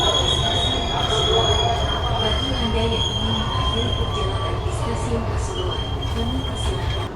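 A commuter train rolls into Pasuruan station with loud, steady rumbling and sharp high-pitched wheel squeal running throughout, close by, with faint murmur of voices underneath.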